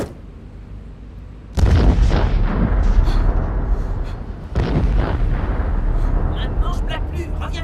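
A sudden, heavy boom hits after a quiet moment, followed by a second deep blast and continuing loud rumbling debris noise.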